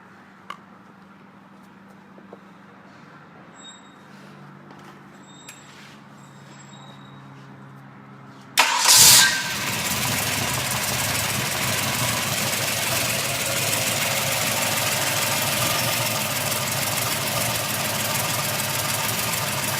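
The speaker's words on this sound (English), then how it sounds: "Let's start this engine." A car engine cranks and catches after a quiet stretch, then settles into a steady, loud idle that continues without a break.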